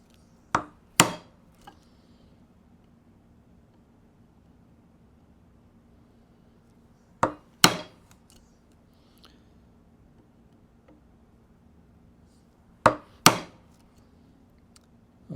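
A sharp chisel is driven into a wooden workbench to cut a mortise, giving three widely spaced pairs of crisp, knocking strikes over a quiet background.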